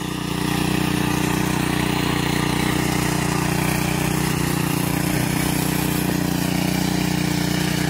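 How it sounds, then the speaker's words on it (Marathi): A tractor ploughing a field in Konkan, its engine running close and loud in an unbroken steady drone with a low rumbling hum, no voices heard over it. "आवाज माझा येणार नाही कारण ट्रॅक्टरचाच आवाज खूप येतोय."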